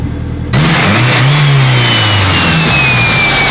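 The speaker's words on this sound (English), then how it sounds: "Yes, the car now has a full exhaust." A Honda Civic Si engine with a full exhaust revs hard, the roar rising and falling as the throttle is blipped, loud and close.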